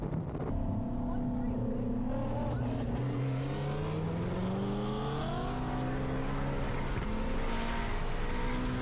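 Twin-turbo 1300 hp Shelby GT350 and 1000 hp Mustangs street racing in Texas, engines roaring loud and sustained with rising, shifting revs throughout, crowd voices faintly underneath.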